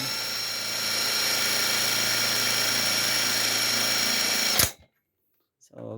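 Suzuki Multicab F6A engine running steadily during an alternator test, a loud continuous whine with a droning hum for about four and a half seconds, then cutting off abruptly, followed by a brief voice near the end.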